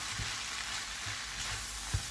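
Kottu parotta with lamb reheating in a pan over medium heat, a steady close sizzle with a few soft stirring knocks and one sharper clack near the end.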